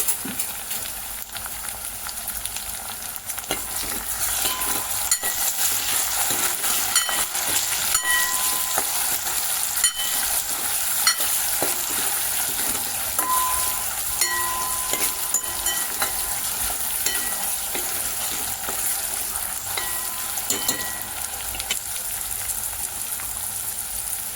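Tomato frying in a pan for a mung dal and dill vegetable dish, a steady loud sizzle with stirring scrapes running throughout, no voices.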